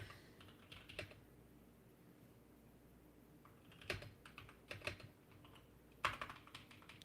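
Keystrokes on a computer keyboard tap out a chat message in short, quiet bursts with pauses between, faint and close against a low background hum.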